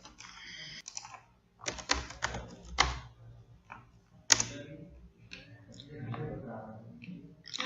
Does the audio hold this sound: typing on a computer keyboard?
yes